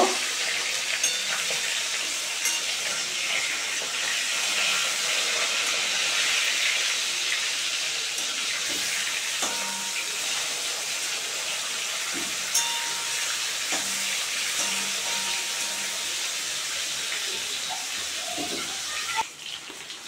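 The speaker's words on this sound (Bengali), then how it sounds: "এই মাছগুলো ভাজা হয়ে গেছে, আমি এখন তুলে নেব।" Four fish pieces frying together in a pan of oil, a steady, fairly loud hiss of sizzling with a few faint clinks of utensils, holding constant throughout.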